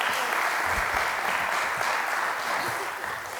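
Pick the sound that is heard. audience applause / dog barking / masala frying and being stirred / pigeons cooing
audience applause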